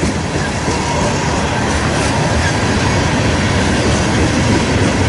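Freight train rolling steadily past up close, a mix of Union Pacific and Norfolk Southern locomotives hauling cars, giving a loud continuous rumble with rail clatter and faint wheel squeal, no talk.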